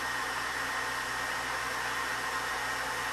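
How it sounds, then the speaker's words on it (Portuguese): Hair dryer blowing on a synthetic hair extension to smooth it, a steady close-up hiss of rushing air with a constant motor hum throughout, no voices. "pra manter ele assim, vocês vão botar o secador"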